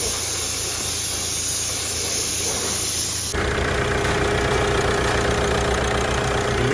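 A Chevrolet Cruze engine runs during a workshop service: a loud, harsh hiss at first, then a steady mechanical idle with a busy, knocking rumble, continuous throughout.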